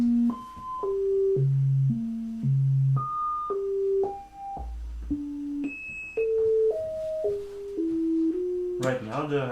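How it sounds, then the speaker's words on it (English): A Fenix IV modular synthesizer's resonating filter, tuned into a sine-like tone, steps through random pitches as sample and hold drives its cutoff, giving a rhythmic run of sustained beeping notes that jump up and down, ending in a brief noisy burst. "we have the filter resonating nicely into the sine wave, and I'm going to apply the sample and hold output"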